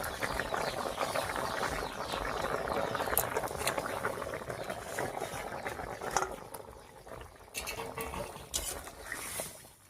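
Fish curry broth made with lata fish bubbling in a pot: a steady, faint bubbling and pattering simmer close by, continuing throughout with a few soft kitchen clatters.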